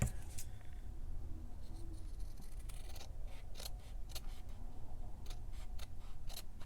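Scissors trimming a paper folio, a series of short crisp snips close by, sparse at first and then more frequent, over a quiet background hum.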